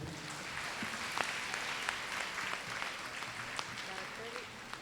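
An audience claps steadily at a women's Bible convention, a broad sustained wash of many hands with occasional sharper claps, continuous throughout.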